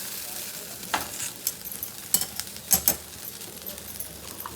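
Green chillies dropped into hot oil for a Navratri fasting thali spit and sizzle steadily, broken by sharp metallic clinks of a spoon against the pan.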